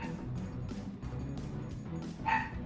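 Dogs bark and yip in the Shadowrun Chronicles video game, several short barks over steady game background sound, with a louder, sharper bark near the end.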